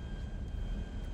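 Airplane engine in GTA 5, a steady droning roar of a plane flying at night, continuous and loud with a faint whine on top.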